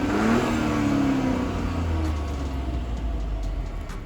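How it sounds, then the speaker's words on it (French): Peugeot 308 GT Line three-cylinder petrol engine revving, a close, steady throaty drone that rises then settles into a smooth hum, with no talk. "Il a dit que son moteur 3 cylindres faisait un bruit sympa"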